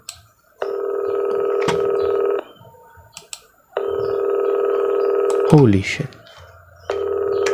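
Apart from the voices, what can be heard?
telephone ringing in horror video game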